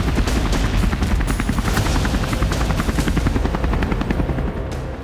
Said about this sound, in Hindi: जिसमें बेलारूसी हेलीकॉप्टर उड़ते हुए दिख रहे थे।